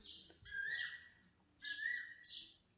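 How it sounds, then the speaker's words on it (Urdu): An Asian koel and a sparrow call outdoors, faint and distant: two rising whistled calls about a second apart, with a softer chirp trailing the second, over quiet background hum. "کوئل آئی ہوئی آپ کو آئی تھنک آواز آ رہی ہوگی اس کی، کوئل اور چڑیا"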